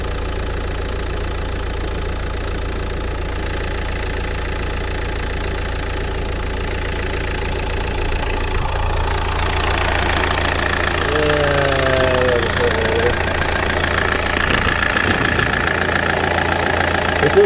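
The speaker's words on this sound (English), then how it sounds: "I'm going to leave the engine running." A car engine idles steadily while parked during a diesel particulate filter cleaning, giving a constant low hum and vibration that grows a little louder partway through, with a few faint higher tones drifting in near the end.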